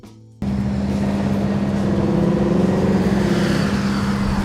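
A 1969 Dodge Challenger R/T engine starts abruptly and settles into a loud, steady, deep rumble with a strong low hum, sustained close by with no talk.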